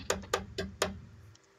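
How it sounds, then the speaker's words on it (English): Four quick light taps in an even rhythm, close and fairly faint, followed by a low hum fading out. "What's that tapping sound?"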